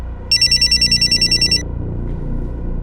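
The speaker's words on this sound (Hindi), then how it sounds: "सुहेल, 4-5 बार फोन किया तुम्हें, फोन क्यों नहीं उठा रहे थे?" A telephone bell rings in a rapid trill of repeated pulses for about a second and a half, loud and close, then stops, leaving a low room hum in an indoor crime-drama scene.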